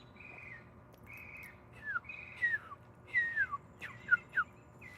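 A wild bird sings a varied series of whistled calls, some long level notes, others quick downward-sliding chirps, coming in bursts at moderate distance with no talking.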